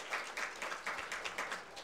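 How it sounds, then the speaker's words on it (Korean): A church congregation claps to welcome a member, producing a faint, brief patter of applause with an uneven rhythm. "박수로 환영하겠습니다."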